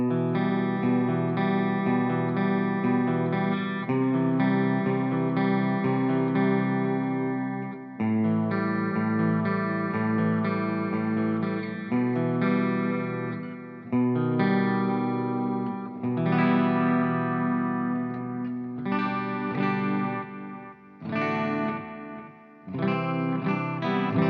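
Clean electric guitar chords run through the ML Sound Lab Amped Icon amp sim, with a shimmering, effects-washed sustain that rings steadily for most of the passage, then turns into shorter, broken strums near the end.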